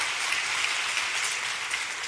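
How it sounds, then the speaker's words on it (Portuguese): A church congregation claps together in a steady, even wash of applause, moderately loud and continuous from start to finish with no voices over it. "dá uma salva de palmas"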